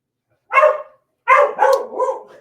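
A dog barks in two close bursts, a single bark then a quick double bark, fairly near and clear with silence between.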